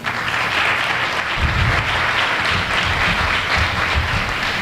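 Audience applause fills a board of education meeting, a steady wash of many hands clapping at moderate volume, rising slightly after the first second and continuing evenly throughout without any talking.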